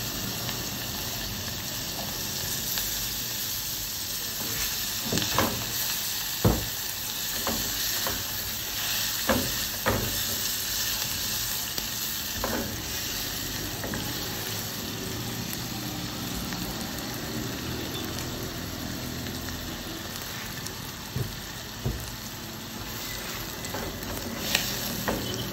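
Onion, garlic and ginger fry in a pan for Nigerian minced beef fried rice, a steady, fairly loud sizzle broken by occasional clicks and scrapes of stirring, with no talking.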